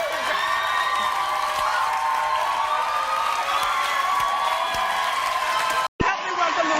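A studio audience claps and cheers loudly and steadily, a dense, continuous wash of applause that cuts off abruptly near the end.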